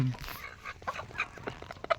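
Hens sitting on eggs cluck softly in short, scattered calls, close by over a low background hum.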